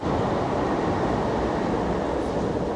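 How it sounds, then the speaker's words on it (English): A train rumbles steadily past close by in a residential area of Osaka, Japan, a dense continuous roar of wheels and carriages filling the whole moment. "Train."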